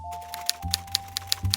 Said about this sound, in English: was Betty, typing away at the typewriter.